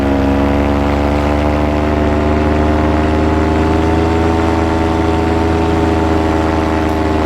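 A paramotor engine runs steadily and loudly nearby, a constant droning hum with a strong, even pitch and no pauses or voices.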